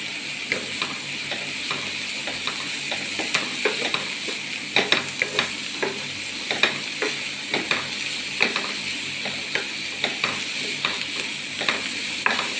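Onions frying in a pan for an egg snack, a steady broadband sizzle under repeated sharp scraping strokes of a spoon stirring them, close and fairly loud, with no talk.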